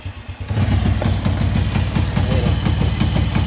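A Honda Wave CX 110 motorcycle engine runs roughly, with a bucking fault when pulling in first gear. It gives a loud, close, steady low putter with rapid rhythmic pulses, starting softer for the first half second and then holding a constant throb.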